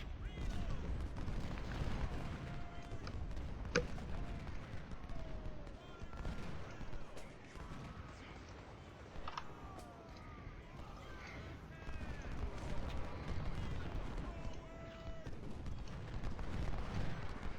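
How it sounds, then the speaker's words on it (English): Artillery barrage and volleys of musket fire rumble and crackle in Ultimate General: Civil War, a dense, continuous battle din of booms and scattered shots with someone talking over it. "did we take a volley with these guys? Or is it that bad with that artillery barrage?"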